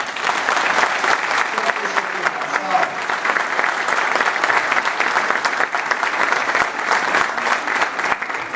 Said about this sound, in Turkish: hepinizden bir kere daha alkış rica ederim